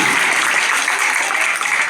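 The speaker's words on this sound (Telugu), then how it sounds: "అప్పుడే చప్పట్లు కొట్టేయండి" An audience at a retirement function breaks into loud, sustained applause, a thick, continuous wash of clapping close by with no break.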